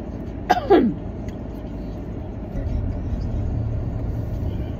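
A car drives along a road, with a steady low engine and road rumble inside the cabin throughout and a brief vocal sound near the start.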